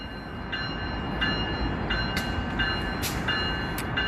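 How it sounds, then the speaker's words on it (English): A train pulls out of the Sacramento Valley Station with a steady low rumble of rolling cars and a few short, high bell-like rings repeating at intervals. "train's taking off."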